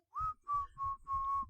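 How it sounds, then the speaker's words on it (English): Inward whistling, four clear sustained tones drawn in on the breath with short gaps between them, close and fairly quiet, with audible breathy intake underneath. "his newly mastered technique of inward whistling."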